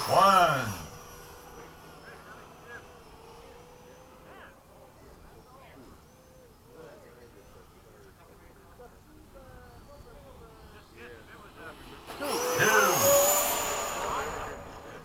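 FMS 80mm Hawk RC jet doing touch-and-go passes at a fun fly event: a loud whooshing turbine roar sweeps past at the start, fades to a distant hum under faint background chatter, then surges loudly again as it passes close.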